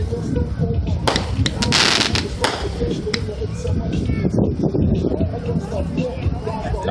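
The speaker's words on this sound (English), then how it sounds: "They're lighting all four at the same time." Blackjack Roman candles by Brothers fireworks, four tubes lit at once, fire in a dense crackling burst of popping shots over continuous crowd chatter and outdoor background noise.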